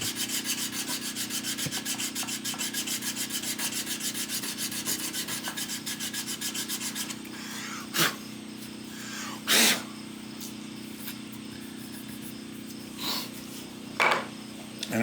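Wood being rubbed and filed down by hand on a guitar nut shelf, a steady rhythmic rasping for about seven seconds, then a quieter workshop with a few sharp isolated scrapes and knocks.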